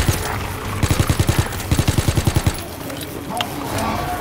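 A Type 100 submachine gun fires in a zombie video game in two fast bursts of about eight close, loud shots each, then stops, leaving game background noise.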